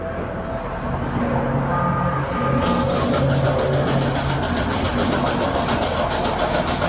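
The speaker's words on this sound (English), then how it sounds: "Turn off the car right now." A car engine idles loudly and steadily nearby during a tense street confrontation, a constant low rumble with no voices heard.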